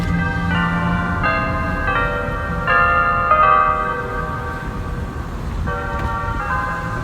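Church bells ring at noon beside a courthouse along the Highway 127 yard sale route, with a sequence of bright tones heard from a distance over steady road and car noise.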